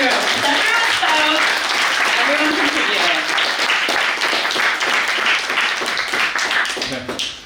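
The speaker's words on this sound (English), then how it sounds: "can I get a round of applause for everyone in this room?" A roomful of people at a city housing event breaks into sustained, dense applause that stays loud and steady before fading at the end, with some voices mixed in.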